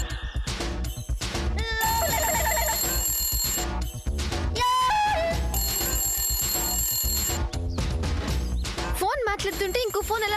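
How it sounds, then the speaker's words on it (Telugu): A telephone bell rings in short repeated bursts in a Telugu TV serial scene, loud and close, mixed with background music and a voice talking. "మాట్లాడుతుంటే ఇంకో ఫోన్ ఎలా వస్తుంది?"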